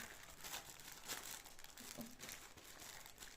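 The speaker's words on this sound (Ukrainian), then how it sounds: "Зараз я пакети пооткриваю." Plastic packaging crinkles and rustles up close as bags are pulled open, a busy crackling sound with a few sharper tearing accents.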